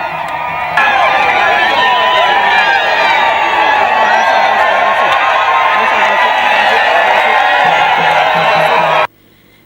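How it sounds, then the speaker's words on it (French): A large crowd cheers and shouts nonstop to welcome Cardinal Philippe Ouédraogo in Ouagadougou, a dense, loud roar of many voices with high whistles and calls before it cuts off abruptly near the end. "C'est une foule des grands jours qui a tenu à souhaiter la bienvenue au cardinal Philippe Ouédraogo"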